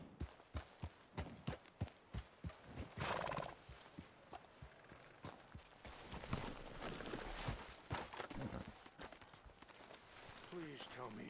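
Horse hooves clip-clopping in a steady rhythm during a ride in Red Dead Redemption 2, followed by a neigh and continued hoofbeats, with voices talking over parts of it.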